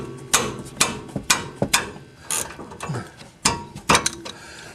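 Close metallic ratchet clicks come in several short bursts as a wrench turns an 18 mm caliper bracket bolt on the front brakes of a 2007 Mercedes C-Class C230, with brief pauses between strokes.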